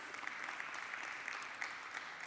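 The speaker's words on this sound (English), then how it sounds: "Let's give her a round of applause." A conference audience applauds at a high-level panel, a steady wash of clapping heard from a distance and at low volume, with no voices over it.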